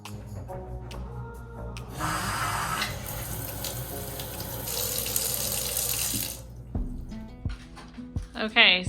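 A household tap runs after plumbing repairs, its water gushing into a sink in a loud, steady stream for several seconds before being shut off, followed by a few clattering sounds and a voice.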